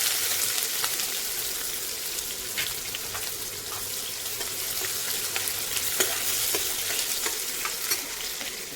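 Chopped onion and cumin seeds fry in a pan with a dense, close crackling sizzle throughout, crisp popping spatters and occasional stirring.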